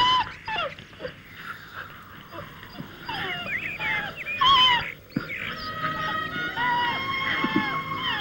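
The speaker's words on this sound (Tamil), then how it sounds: "நோய் வந்த நாயை கொல்ல வேண்டாம்." A sick dog whimpers and yelps in a Tamil-dubbed Malayalam drama film, with repeated high, wavering whines and short cries close by, some louder bursts mid-way, over a faint background murmur.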